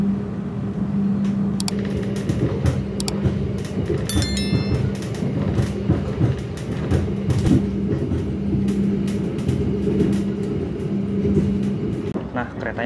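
The KA Kutojaya Utara economy premium passenger train rolls out of Pasar Senen station, a steady low rumble and hum of the running carriage from inside, with a few clanks and a voice talking briefly.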